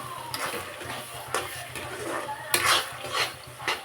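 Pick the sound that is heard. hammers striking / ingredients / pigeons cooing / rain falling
ingredients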